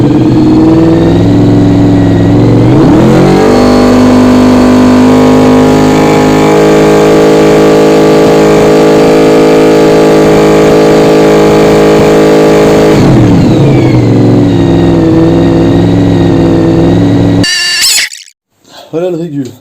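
A Honda VFR RC36 motorcycle engine runs loud and close, rising to a held high rev, then dropping back to a lower idle before cutting off abruptly.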